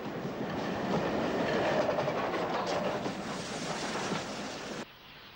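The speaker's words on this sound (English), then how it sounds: "Here we have a close-up of the large driving wheels of number 30861 Lord Anson at speed." Southern Railway express steam locomotive No. 30861 Lord Anson heard at speed beside its large driving wheels: a loud, close, continuous rushing roar with rhythmic rail clatter that cuts off abruptly near the end.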